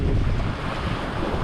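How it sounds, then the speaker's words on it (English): Steep, closely spaced ocean waves and strong wind around a small sailboat on a solo passage toward Australia, a loud continuous rush of surf and wind buffeting close by. "These waves are weird."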